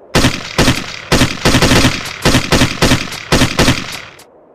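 Gunfire in the Army Men video game: loud, close bursts of rapid automatic fire in about seven or eight short volleys with brief gaps between them, ending abruptly.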